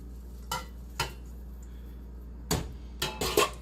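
A spoon stirs bow tie pasta in a pot for chicken paprikash, giving a few short scraping, clinking strokes spread over a few seconds against a quiet steady hum.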